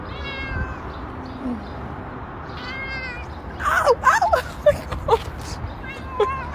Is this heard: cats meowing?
yes